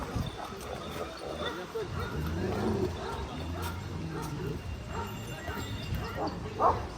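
Dogs, including Kangal and Bully Kutta types, bark and yip intermittently at an outdoor dog beauty contest in Aşağı Seyit, Denizli, amid a busy crowd murmur and nearby chatter.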